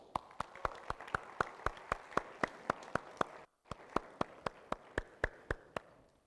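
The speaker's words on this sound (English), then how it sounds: "Let us welcome, with a big round of applause," Sparse, evenly spaced sharp claps at a youth climate conference welcoming a speaker, one pair of hands clapping steadily in a quiet room with a brief silent gap midway.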